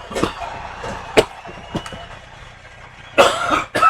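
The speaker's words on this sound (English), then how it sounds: "still got a little bit of a cough from being sick" Several short, sharp coughs from a person recovering from illness come in isolated bursts, close and fairly loud, with quiet pauses between them and a heavier double cough near the end.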